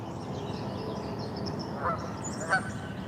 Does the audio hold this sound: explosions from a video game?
no